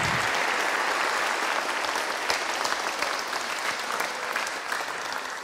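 Audience at a sixth grade graduation applauding steadily for several seconds, a dense wash of many clapping hands that slowly tapers near the end, with no talk over it.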